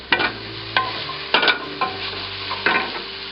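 Beef fried rice with soy sauce and oyster sauce being stir-fried in a hot pan, with a steady close sizzle and five sharp scraping strokes of a spatula spaced through the clip, no voices.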